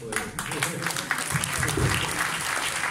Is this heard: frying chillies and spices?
no